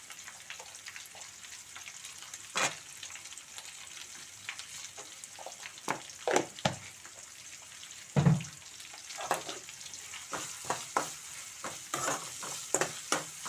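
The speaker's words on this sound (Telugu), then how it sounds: "ఉల్లిపాయ త్వరగా వేగాలంటే మనం కొంచెం సాల్ట్ అయితే వేసుకోవాలి" Onions fry in a pan with a pinch of salt for a village-style brinjal tomato curry, a low hiss under sporadic scraping stirs and spatula knocks, fairly quiet with no voices.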